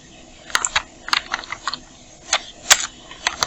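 Computer keyboard typing while working in Photoshop: a close, uneven run of crisp key clicks with short pauses between bursts, heard alone.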